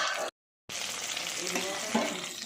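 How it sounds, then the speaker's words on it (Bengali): Fish pieces fry in hot oil with a continuous bubbling sizzle, cut by a brief gap of silence before resuming at a steady level. "এবার সব মাছগুলো এভাবে ভেজে নিচ্ছি"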